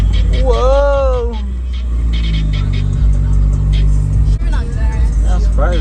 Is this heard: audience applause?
no